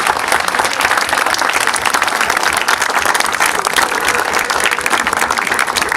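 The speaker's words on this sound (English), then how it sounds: "So guys, give yourselves a big round of applause" Sustained, dense applause from a crowd gathered for the official opening of Dursley Rugby Club, steady and loud from start to finish with no talking.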